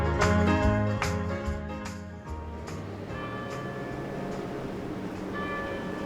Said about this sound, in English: You might be able to hear the bells ringing in the background.